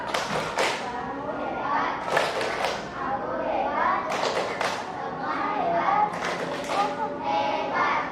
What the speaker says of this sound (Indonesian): Berikan dulu kalian tepuk hebat